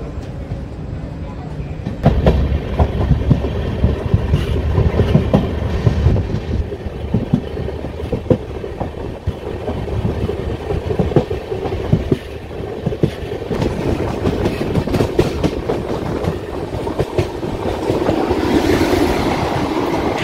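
An intercity express train with ICF coaches rumbles steadily along the rails between Bengaluru and Shivamogga, with a continuous low roar and faint rhythmic clatter, loud and close throughout.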